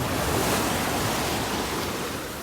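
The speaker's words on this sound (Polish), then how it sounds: "Duże fale są dzisiaj." Large sea waves break on a beach, a continuous loud roar of surf and wash with wind mixed in, filling the whole moment with no voices.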